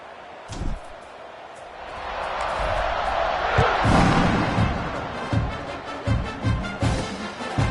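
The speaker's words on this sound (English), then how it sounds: "this crowd now ready to get behind them" A football stadium crowd roars as the kickoff is set, a broad swelling cheer that builds and holds, with scattered thumps and an announcer's voice over it.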